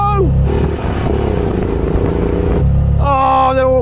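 A three-wheeled motor tricycle engine revs loudly at a drag race start, a steady droning roar that climbs and shifts before a tonal beep-like sound takes over near the end.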